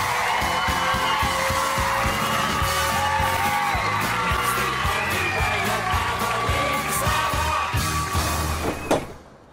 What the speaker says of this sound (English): Give us a big cheer